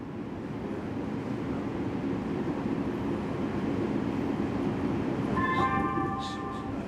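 A Metro train on the new K and C line pulls into LAX Metro Transit Center station with a continuous rolling rumble. Near the end, a few high squealing brake or wheel tones rise briefly over it.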